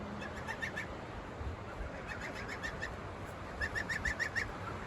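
A duck with angel wing gives repeated short, nasal quacking calls in bursts of three to six while the wing is being wrapped, fairly close but not loud, over a steady indoor background hum.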